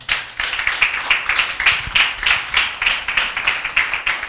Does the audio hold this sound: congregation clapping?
yes